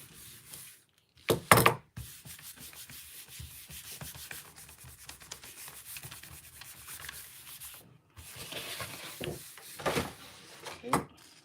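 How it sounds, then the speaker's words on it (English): A roller rubs across a gel printing plate, making a dry, scraping sound with irregular bursts. The strokes are louder near the start, end and middle, and there are brief pauses between them. "I'm trying to clean my roller and rub this into the gel plate all at the same time."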